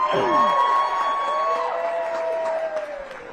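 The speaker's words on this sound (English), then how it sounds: "let's give Sheila Johnson a big round of applause" Crowd at a restaurant ribbon-cutting ceremony in the District of Columbia applauding and cheering, with whoops and excited voices over a steady wash of clapping.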